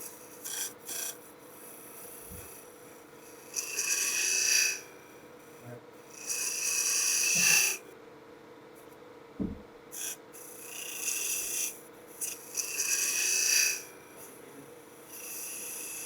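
Woodturning tool cutting small V grooves in a bead and cove stick on a lathe, giving repeated rasping, scraping bursts of a few seconds each, separated by quieter gaps, close and fairly loud.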